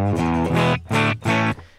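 Short burst of guitar through an amp tone resembling a Fender Bassman, thuddy and growly in the low end: three or four strummed chord hits with brief gaps, close and loud.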